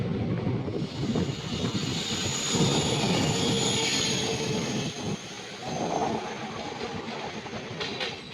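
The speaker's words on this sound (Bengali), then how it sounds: "ওদিক থেকে একটা ট্রেন আসছে।" A train approaches New Farakka station with a sustained heavy rumble and clatter of wagons, wheels squealing and a rising, swelling roar that stays loud and fairly close throughout.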